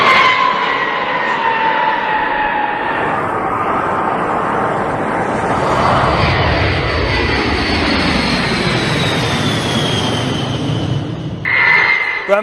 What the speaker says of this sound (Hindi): दूसरी तरफ अमेरिका ने देखिए B-52 बॉम्बर विमान है।